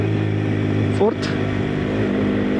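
A Hero Xpulse 210 motorcycle with a slip-and-assist clutch drops a gear, its steady engine hum giving a quick blip and dip in revs around the shift, under a rider's speech.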